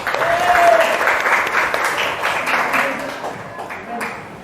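Classroom applause for a classmate who just answered a question, a burst of many hands clapping fairly close, steady then tapering over a few seconds, with faint voices beneath.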